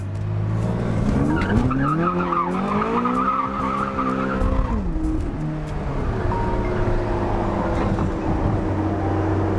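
A Ferrari spins donuts, its tires screeching in a loud, sustained wail that shifts pitch as the car slides, with engine roar underneath throughout.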